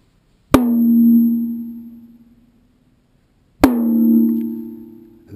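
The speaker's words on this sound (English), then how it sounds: "That drum sounds pretty good." A freshly tuned tom drum is struck twice, a few seconds apart, each hit a clear, ringing, pitched thud that decays smoothly to silence, loud and close with no talking.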